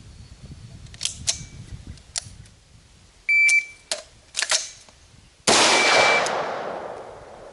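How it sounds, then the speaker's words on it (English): Rifle shots on a range with hard sights: a couple of sharp single reports, then the metallic clatter of an emergency reload, then a second loud shot that rings out and decays, with beeps from a shot timer. "on target, fire one shot, emergency reload, fire one shot"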